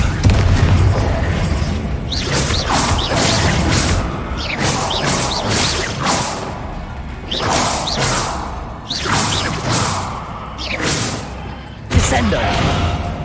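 Repeated magical blast effects from a fantasy spellcasting video game burst one after another at a steady rhythm, each a loud booming whoosh with a crackling tail, forming a dense, continuous barrage.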